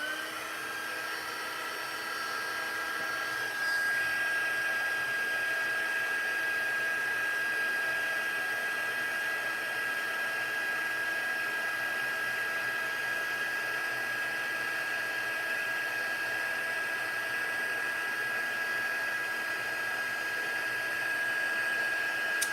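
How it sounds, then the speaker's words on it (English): A craft heat tool for embossing runs continuously at close range, a steady loud blowing whine with an even fan hiss that holds unbroken throughout. "Okay, heat tool."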